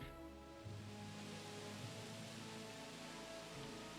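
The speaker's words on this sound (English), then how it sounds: "There we go, it's raining again." Steady rain pours in the video game Jurassic World Evolution, a constant dense hiss of drops falling on surfaces, quiet and even throughout with a low rumble beneath.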